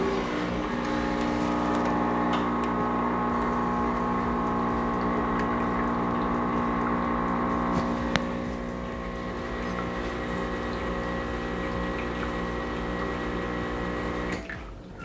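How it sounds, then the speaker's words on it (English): An espresso machine's group head flushes plain hot water with no detergent, a steady pump drone with tonal hum running almost unbroken for about fifteen seconds, a brief click near the middle and a drop at the end. "so without any detergent, I'm just running just hot water."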